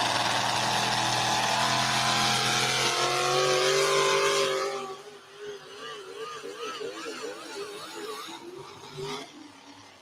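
Loud Chevrolet pulling truck nicknamed Agent Orange revving hard during a tractor pull run, a sustained rising engine roar for several seconds that then drops away to a quieter, wavering engine note under crowd noise.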